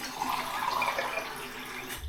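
Water runs steadily from a tap into a sink during a wet shave, a constant close splashing hiss with no talking over it.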